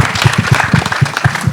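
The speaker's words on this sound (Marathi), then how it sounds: "जोरदार टाळ्या झाल्या पाहिजेत" An audience applauds at a film trailer launch event, producing a brief burst of dense, loud clapping up close that runs without pause.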